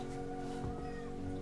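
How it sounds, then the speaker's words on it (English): A pet cat named Troy gives a brief meow indoors against a steady background hum. "I hear a cat. Yeah, that's my cat."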